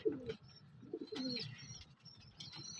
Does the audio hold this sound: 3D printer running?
no